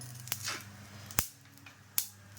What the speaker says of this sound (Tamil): உங்களுக்கு கடுகு வெடிக்கிறது தெரியும்.